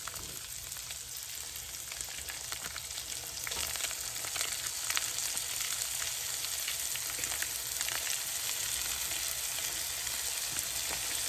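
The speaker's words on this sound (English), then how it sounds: "I'm going to go ahead and squeeze that Impossible sausage" Impossible plant-based sausage and red onions fry in butter in a skillet, a dense continuous crackling sizzle that grows slightly louder partway through, heard close with no speech.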